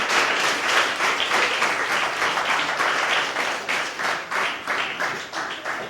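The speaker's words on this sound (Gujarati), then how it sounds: "તાળીઓથી એમને વધારવી જોઈએ ને." A children's book-talk audience applauds the speakers with loud, sustained clapping from many hands that fills six seconds and only begins to thin slightly toward the end.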